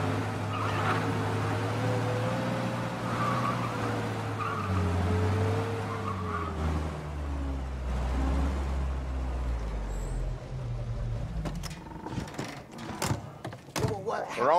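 An old car drives in Mafia Definitive Edition, its engine droning and shifting pitch up close, followed by clattering thumps and a door, with someone speaking over it.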